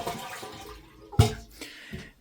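Water drains from a toilet tank in a short burst of gurgling rush that peaks sharply midway, then fades off with a second, smaller surge.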